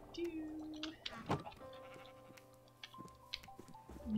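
Sheep bleating in modded Minecraft 1.18, a few short wavering bleats close by, mixed with soft game sounds and a brief voice, fairly quiet overall.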